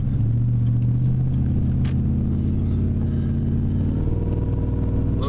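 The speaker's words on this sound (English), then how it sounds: "I've got the trailer on the back of the truck with the tractor." A pickup truck towing a heavily loaded trailer carrying a tractor, with a steady, loud, low engine rumble and road drone throughout and no change in pace.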